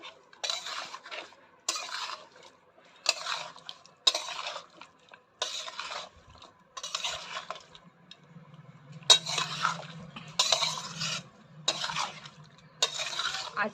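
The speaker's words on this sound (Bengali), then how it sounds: "এবার আমি তেলটা দিয়ে দিচ্ছি এবার ভালো করে নাড়তে হবে" Country chicken is stirred in oil in a pot, giving repeated scraping and clinking strokes in a steady rhythm with short pauses, close and moderately loud, while a low sizzle runs faintly underneath.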